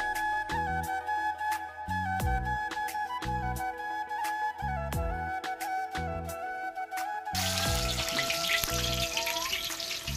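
Vegetables frying in mustard oil in a kadai, a steady crackling sizzle with regular rhythmic tapping of a spoon or spatula against the pan, and a harsher burst of sizzling toward the end.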